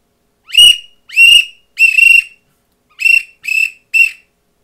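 Six short, sharp whistles in two groups of three from a Buck Gardner 6-in-1 duck call used as a regular whistle, loud and close with no talk.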